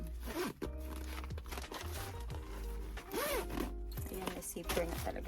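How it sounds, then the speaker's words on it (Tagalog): A zipper on an everyday bag is pulled open in several quick rasping strokes, close and crisp, with a voice talking over and between them. "Ayan, may zipper na talaga siya."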